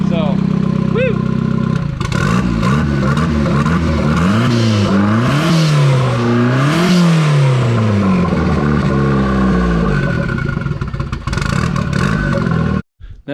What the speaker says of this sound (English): If you listen to how the engine sounded, it was absolutely terrible.